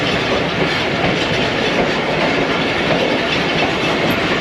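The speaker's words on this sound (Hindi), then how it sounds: "तो हमारी ट्रेन अब चीचू की मलिया रेलवे स्टेशन से चल पड़ी है और अगले स्टेशन की तरफ बढ़ रही है।" Ravi Express passenger train in Pakistan running on the rails after leaving a station, a steady loud rumble with clickety-clack of wheels heard from inside, no talk.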